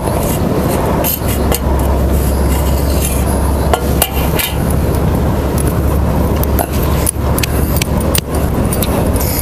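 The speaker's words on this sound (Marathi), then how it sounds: "चांगले बी बारीक होस्तरी चेचायचं बघा" Raw tomato chutney ingredients are pounded fine in a mortar, giving loud repeated thuds and grinding knocks over a constant low hum, with no speech.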